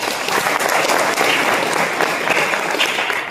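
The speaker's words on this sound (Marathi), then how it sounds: "एकदा जोरदार टाळ्या त्यांच्या" Loud, dense applause from a large audience at a Rotary gathering in honour of the women members, steady and continuous throughout with no pauses.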